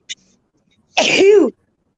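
A single sharp sneeze bursts out close by, a short explosive burst after a brief silent moment, with no other sound around it.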